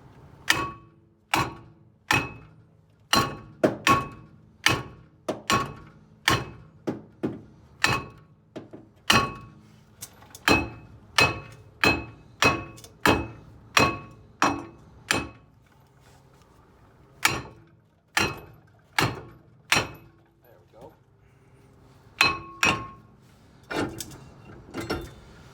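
Sharp metallic hammer strikes ring out against a front disc brake rotor as it's knocked loose, about thirty taps in quick irregular bursts with short pauses, each hit clear and close.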